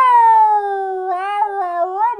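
A cat gives a long, drawn-out meow that wavers and rises in pitch toward the end, loud and close with no other sound.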